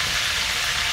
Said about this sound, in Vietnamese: Ớt này mình chiên tươi nhưng mà mình bỏ tí muối nha các bạn.